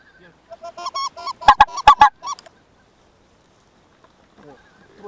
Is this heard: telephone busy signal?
no